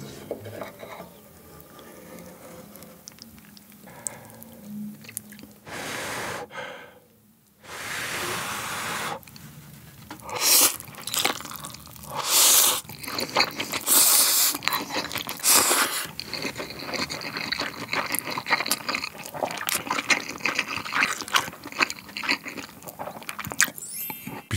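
Someone eats spicy Ottogi Yeul ramen cooked down with soft tofu and pepper, making close, wet slurps and chewing. Loud bursts of slurping repeat over a steady background hiss, with no talking.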